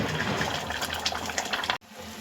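Water pours steadily into a pan of mutton curry gravy, a soft continuous gush heard close up that stops abruptly near the end.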